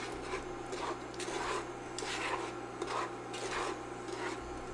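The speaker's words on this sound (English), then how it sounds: "It's much easier to stir and scrape off the bottom so you don't get any" A wooden spoon stirs and scrapes the bottom of a pot of heating sugar mixture for Scotcharoo bars, making rhythmic, rasping strokes about once every half second over a low, steady stovetop hum.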